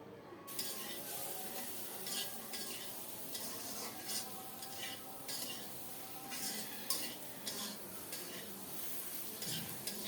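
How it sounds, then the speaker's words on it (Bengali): Chopped tomato and spices fry and sizzle in a pan for a tengra fish and flat bean curry, stirred continuously with a busy, scraping rhythm and occasional clinks of the utensil, close and clear. "আর একটু কেটে রাখা টমেটো সব কিছু দিয়ে নেড়ে চেড়ে আরও কিছুক্ষণ কষিয়ে নেব"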